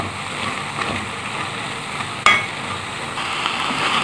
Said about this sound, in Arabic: دلوقتي هنحط البصل على الفراخ ونقلبه دقيقتين كده.